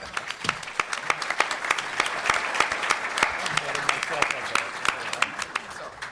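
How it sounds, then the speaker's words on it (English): An audience at a pension reform event gives a sustained round of applause, with dense clapping and sharper individual claps standing out, and a faint murmur of voices underneath. "a big round of applause for Lawrence Masal?"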